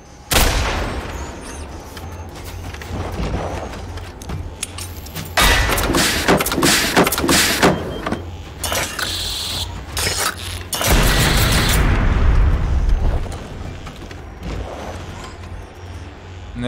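Grenade explosions in the video game Generation Zero, heavy booms and blasts mixed with bursts of gunfire, loud and close, with dense rumbling stretches and short quieter gaps between them.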